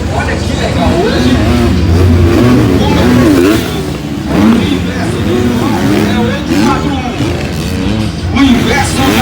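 MX2-class motocross motorcycles race at Bom Jesus da Lapa in 2024. Several engines rev and rise and fall in pitch as the bikes pass nearby, over a constant crowd murmur and loud race noise.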